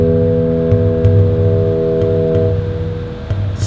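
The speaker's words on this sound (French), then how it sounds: "C'est le bruit que le cargo fait dès qu'il quitte le port et dès qu'il rentre dans le port." A cargo ship's deep, sustained horn sounds as it leaves port, droning steadily with a rich low hum, fading out after a few seconds amid faint background noise.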